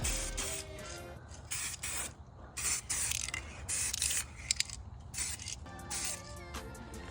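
Spray paint hissing in repeated short bursts over car wheel rims as a light coat goes on, close and fairly loud, with faint ratcheting and mechanical clicks between the bursts.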